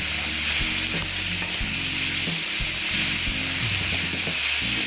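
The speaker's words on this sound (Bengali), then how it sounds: "তারপরে দিচ্ছি দেখো কাঁচা লঙ্কা দিয়ে এবার একটু মেজে টেরে নিচ্ছি" Ash gourd and green chillies are stirred in a hot pan, with regular scraping strokes of a spatula over a constant sizzle, close and loud, without speech.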